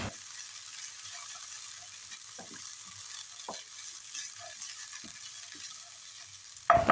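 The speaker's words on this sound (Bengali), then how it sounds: "এবার চাল খুব ভালোভাবে ভাজতে হবে।" Rice grains frying in ghee in a pan, a soft continuous sizzle with scattered scraping stirs, close and fairly quiet, ending in a sharper clank.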